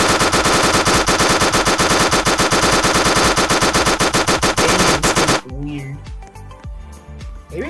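An SMG fires in a Roblox video game in one long, rapid, evenly spaced burst lasting about five seconds, loud and close, then cuts off to quieter scattered game sounds.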